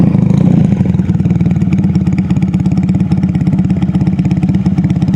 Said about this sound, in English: I put little Canon silencers on it, and I think they just look good and they sound wonderful